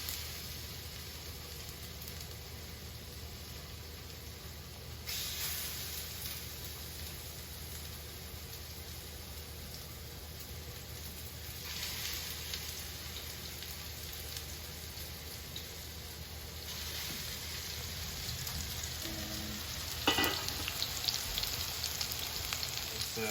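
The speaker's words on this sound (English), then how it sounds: "frying up our patties" Lion's mane mushroom patties fry steadily in a pan, giving a continuous close sizzle and crackle with occasional louder spits and pops, and no voices.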